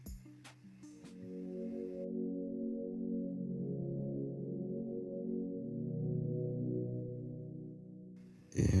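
A soft, sustained Noia synth pad from Kontakt under a low-pass filter, holding warm muffled chords quietly for several seconds after a few brief opening hits, with a louder burst at the very end.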